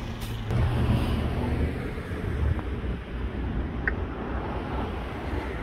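Road traffic passes at a distance as a faint, low rumbling wash, swelling slightly near the start and then settling into a steady background hum.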